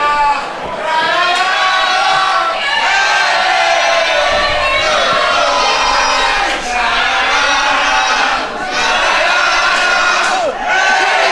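A large wrestling-event crowd cheers and chants in a loud, sustained rhythmic roar with swelling peaks.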